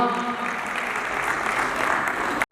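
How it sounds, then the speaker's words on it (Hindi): Loud sustained applause from a crowd at a Lions Club charter night celebration, steady throughout and cutting off abruptly near the end. "एक बार जोरदार तालियां"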